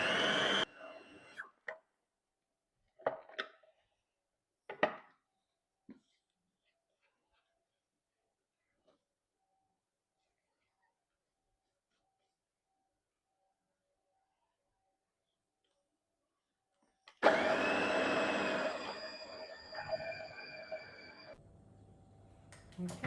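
A blender pulses a keto bread mixture until it clumps: a few short, sharp bursts separated by quiet gaps, then a longer, louder whirring run near the end.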